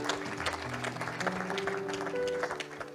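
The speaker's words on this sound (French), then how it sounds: "Acclame pour Jésus." Church audience applauding for Jesus, steady dense clapping from a crowd lasting throughout, moderately distant, with a voice and some tonal sounds underneath.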